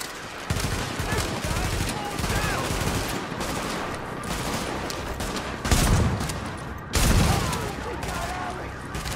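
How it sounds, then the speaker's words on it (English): Shotgun and gunfire in the video game The Division, a dense run of shots with a couple of heavier blasts near the end, loud and close. "This shotgun's garbage."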